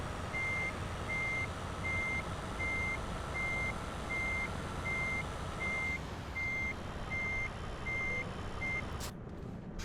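In the video game Euro Truck Simulator 2, a truck reversing a short trailer sounds a steady series of evenly spaced reversing beeps over a constant engine rumble, ending in a brief hiss.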